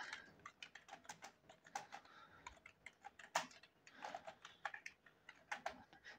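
Quick, irregular keystrokes tap on a computer keyboard, faint and close, with no talking.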